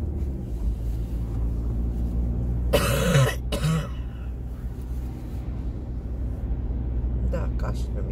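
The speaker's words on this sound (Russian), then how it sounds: "Да, кашель у меня." Two harsh coughs from a woman with a cough, close and loud, heard inside a car driving along a snowy road in a blizzard, over a steady low engine and road rumble.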